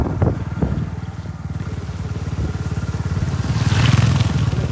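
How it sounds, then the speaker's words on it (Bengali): A CBR racing motorcycle engine runs with a steady, rapid pulsing throb, close and loud, building slightly toward the end amid gusts of wind noise. "এগুলো বলে রেসিং বাইক"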